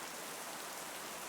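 Steady rain falls as a sound effect in a voiced story near an abandoned railway tunnel, a soft, even hiss with no breaks or distinct drops, heard alone without any voice.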